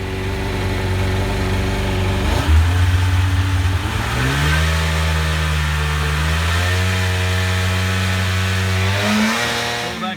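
A Sea-Doo jet ski engine revs hard near its rev limiter, holding a loud, steady high-pitched drone that drops briefly, then climbs again in stepped surges before easing off, all close and with no talk.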